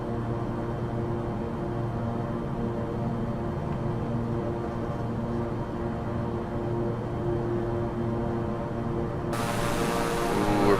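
F/A-18 Hornet jet in Microsoft Flight Simulator, heard as a steady, continuous engine drone with layered hum from start to finish, swelling slightly louder near the end, with no talk.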